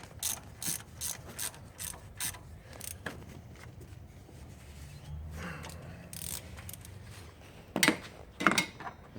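A hand ratchet clicks in short, repeated bursts while tightening the coil pack bolts on a Toyota engine, close and crisp, with pauses between strokes and a louder pair of bursts near the end.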